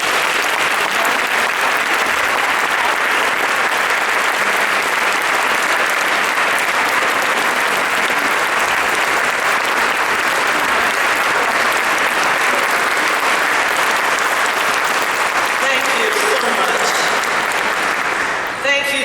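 Sustained audience applause fills an award ceremony hall as Linda Deutsch is welcomed to the stage for a Lifetime Achievement Award, a dense steady clapping that holds loud for about nineteen seconds before tapering slightly at the end.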